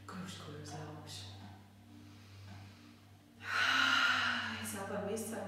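Breathing exercise during a yoga stretching session: a soft airy exhale near the middle gives way to a louder, sustained breathy rush of air out, alone over a steady low hum.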